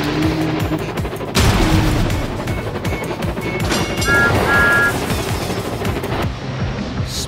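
Racing sounds from the Thomas & Friends: Go Go Thomas mobile game, with dense, loud engine noise, rapid rattling bursts and brief electronic tones running throughout.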